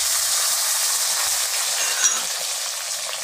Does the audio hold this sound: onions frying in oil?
yes